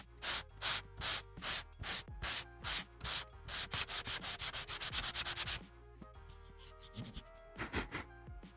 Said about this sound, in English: you want to try sanding it?